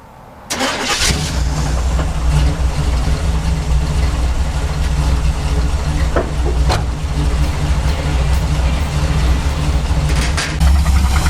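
A Chevrolet C10 truck engine cranks and catches, then settles into a loud, steady rumbling idle close by, running cold and a little lean.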